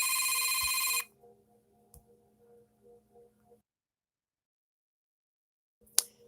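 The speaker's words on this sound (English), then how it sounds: "I had to take that phone call." A telephone rings loudly and close for about a second before being cut off, leaving a quiet room with faint low hum and a few soft clicks and knocks.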